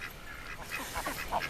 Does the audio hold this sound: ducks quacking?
yes